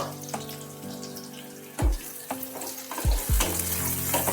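Pieces of pointed gourd fry steadily in hot oil in a pan, a continuous close sizzle broken by a few sharp clanks and scrapes of a utensil against the pan, with no voices.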